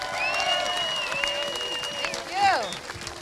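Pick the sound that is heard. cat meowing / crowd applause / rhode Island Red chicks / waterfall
crowd applause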